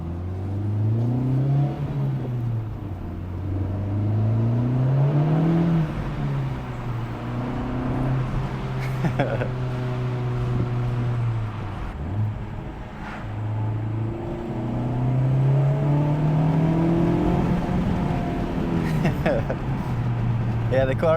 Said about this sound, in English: See if you guys can hear outside the car sound.